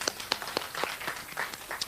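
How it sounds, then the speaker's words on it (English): A round of applause at a business gathering on Ghana, coming through as a faint, sparse smattering of scattered claps over a couple of seconds. "you can do the round of applause"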